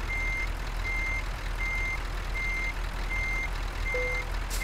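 A truck's reversing alarm in Euro Truck Simulator 2 beeps steadily six times at even intervals over a low, constant engine rumble, with a short lower tone near the end.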